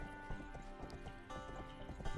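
Horse hooves gallop at a steady clip-clop rhythm in a fantasy video game, with a red horse ridden at speed, the repeated thuds layered over continuous game music and ambience.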